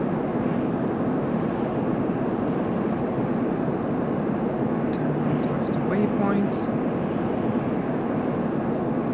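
A VTOL aircraft in Stormworks lifts off and hovers with a steady, droning engine hum that holds an even level throughout, while a synthetic voice gives a brief navigation callout over it.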